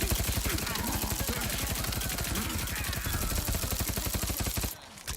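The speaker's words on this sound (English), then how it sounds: "this SMG is pretty much a minigun" Rapid, sustained submachine-gun fire in a video game, a dense unbroken stream of shots lasting several seconds before cutting off abruptly near the end.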